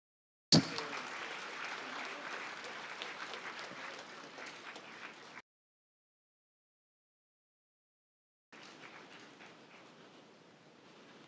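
Audience applause at an award ceremony presenting Dynamic Indian of the Millennium awards, a sudden burst of steady clapping lasting several seconds, then a gap of silence before a softer second round of applause.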